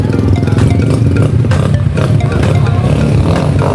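Several motorcycles revving loudly at a yearly local gathering: a dense, continuous engine roar with rising and falling revs, close and loud throughout, with no clear talk.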